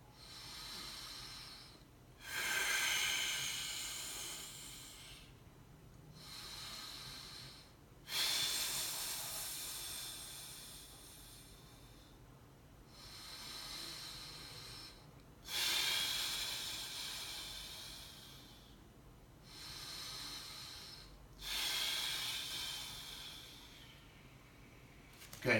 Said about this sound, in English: do that for about a minute to 3 minutes of consistent diaphragmatic breathing